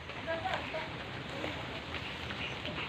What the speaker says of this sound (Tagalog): Ayaw nang tumila itong ulan na to.